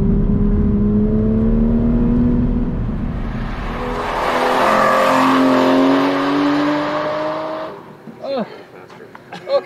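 An exotic car speeds around a race track, its engine rising and falling in pitch through gear changes for several seconds before the roar fades out and brief voices and noises follow.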